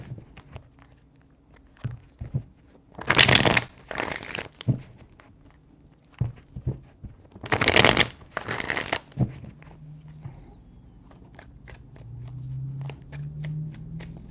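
Tarot cards shuffled in two loud, close bursts of papery riffling a few seconds apart, with scattered light card taps and handling sounds between and after.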